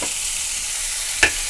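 Finely chopped large onion and green chilli sauté in a hot pan with a steady, even sizzle, loud and close, broken once by a brief scrape of stirring.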